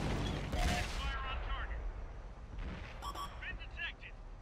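A Russian tank's cannon fires a HEAT round in the World of Tanks game, a loud, booming broadband blast lasting about half a second near the start, followed by softer game noise with talk over it.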